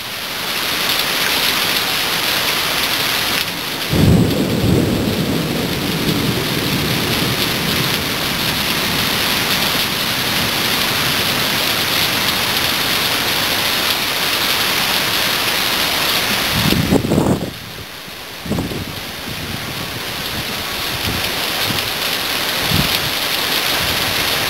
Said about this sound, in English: still heavy rain coming down